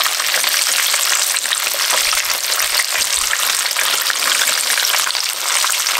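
Chicken strips frying in oil produce a loud, continuous crackling sizzle, dense and even throughout, with a couple of soft low thumps and no talk.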